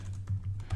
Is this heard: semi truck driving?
no